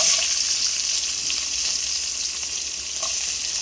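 Fennel seeds and onion fry in hot butter in a pan, a steady close sizzle with light stirring clinks, heard alone without talk.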